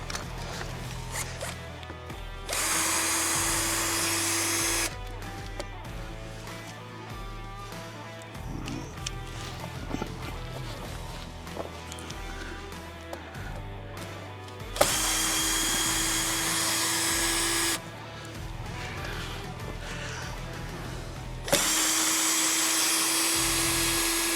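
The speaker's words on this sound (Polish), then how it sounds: "Może po prostu wkrętarką mi się uda to rozkręcić." Cordless drill backing screws out of rotten wooden planter boards, loud sustained whirring bursts repeating several times with pauses of handling noise between, no talk.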